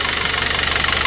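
A Citroën C4 2.0 engine with a valve defect on the exhaust camshaft side, which lacks lubrication, runs with a loud, rapid, even mechanical knocking at idle, close up and with no talking.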